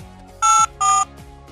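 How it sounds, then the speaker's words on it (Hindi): Two short phone keypad dialing tones from a Hindi mobile gangster game, crisp, electronic and evenly spaced over quiet game background music. "मैं अपना नंबर डायल कर रहा था अभी"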